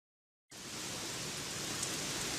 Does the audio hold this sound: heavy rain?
yes